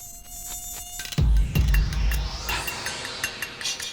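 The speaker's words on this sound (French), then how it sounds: "L'attaque des moustiques semble avoir été fructueuse." Mosquitoes whine with a thin, high buzz indoors, joined after a second by a heavy thump and rustling, then continuing to hum faintly in the background.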